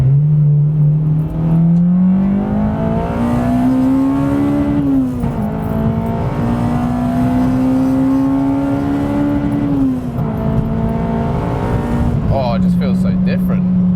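A mapped Honda Civic Type R EP3 engine drones loudly at high revs toward 8,600 rpm, pitch climbing and holding, then dipping briefly at each gear change before rising again.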